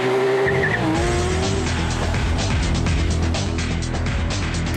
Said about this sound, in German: Kupplung treten, Gang einlegen, Drehzahl hoch und starten